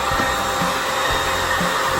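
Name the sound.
hair dryer drying out an RV ceiling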